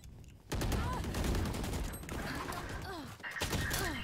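Sustained gunfire in a shooting video game, dense rapid shots starting abruptly and continuing loudly with brief dips, while a voice talks over the action.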